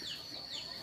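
Chickens cluck near a house in rural Indonesia during rain, a brief soft series of calls.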